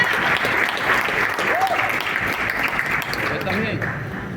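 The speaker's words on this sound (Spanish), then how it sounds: "Recibamos con un aplauso a nuestro amado hermano y pastor Ati Pereira." Steady, dense applause from a church congregation at a district summit as a pastor is welcomed, a continuous wash of clapping with cheering voices mixed in throughout.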